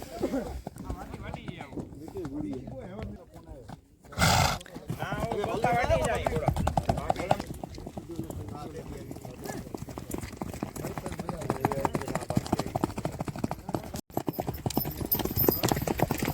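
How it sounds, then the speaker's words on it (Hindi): Hooves of a Kutch mare clip-clop in a quick, steady rhythm during a horse race, while someone talks over the sound and a brief burst of noise interrupts. "ये है ढोरी कच्छ की घोड़ी।"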